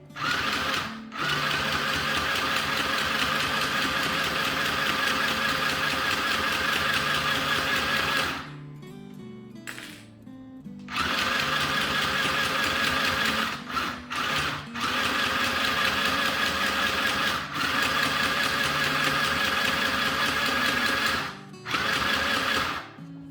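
A sewing machine stitching fabric for burp cloths and a drawstring bag, running in a steady close mechanical whir with two clear pauses where the motor stops before starting again.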